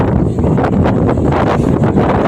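Strong wind buffets the microphone in a loud, continuous roar with gusty rumbling throughout, at the site of a grounded ship where stevedores work.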